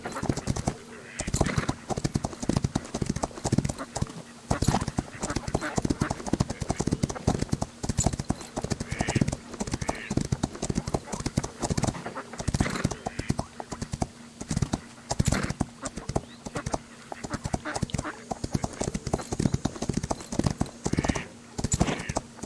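Galloping horse hooves in the Rival Stars Horse Racing video game as the horse is ridden along the shore, a dense, fast, continuous clip-clop rhythm lasting throughout, with occasional faint whinnies in the mix.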